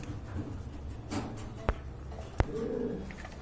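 A pair of big-sized pigeons for sale coo softly, low and faint, with a couple of sharp clicks from handling.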